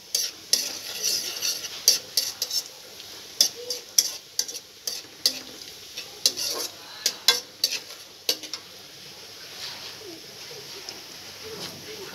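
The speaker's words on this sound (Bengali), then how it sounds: "ব্রাউন হলে পেঁয়াজটা দিয়ে দেবো।" Onion sizzles in a pan while a utensil stirs it, producing a steady low fry hiss punctuated by frequent sharp clinks and scrapes against the metal, close and fairly quiet, with no talk.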